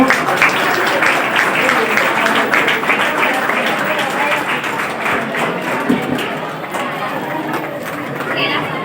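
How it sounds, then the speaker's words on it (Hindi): Children applaud at a school's annual programme, a steady dense wash of clapping that keeps going the whole time, with voices and chatter mixed in underneath. "जोरदार तालियां हो जाए जरा प्यारे बच्चों।"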